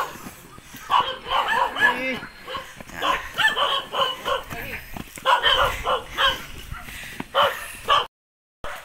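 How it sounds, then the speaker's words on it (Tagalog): Several dogs bark and yip in quick, overlapping bursts, fairly close, with a brief pause near the end, in Barangay Mabato, San Miguel, Catanduanes, Philippines. "dadaan kami sa maraming aso"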